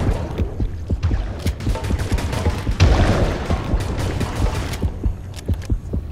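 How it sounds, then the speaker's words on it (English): Net gun fire in the underwater game Depth, a rapid string of sharp, punchy shots with a bubbling burst of heavier noise near the middle, close and loud throughout. "Double kill with a net gun."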